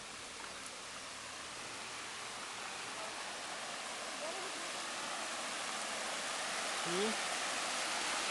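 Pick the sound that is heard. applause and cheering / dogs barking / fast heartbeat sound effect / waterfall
waterfall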